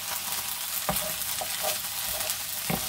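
Rabbit pieces sear in a hot pan for a mustard rabbit dish, a dense steady sizzle close up, broken by a few sharp clinks or scrapes of stirring, with no talking.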